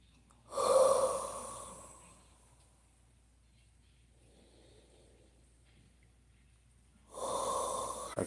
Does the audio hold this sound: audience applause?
no